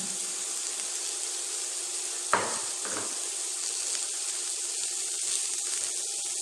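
Slit green chilies, garlic and ginger sautéing in oil in a pan, a steady close hiss of frying with a couple of brief stirring scrapes partway through.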